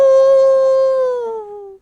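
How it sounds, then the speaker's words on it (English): A single long, clear howl from a canine, steady and sustained before slowly sliding downward in pitch and fading out, heard alone with no other sounds. "when they heard a howl"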